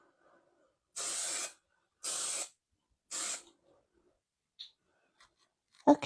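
Three short bursts of aerosol spray paint, each about half a second, hissing loudly in an otherwise quiet space during a live painting, followed by a couple of faint clicks.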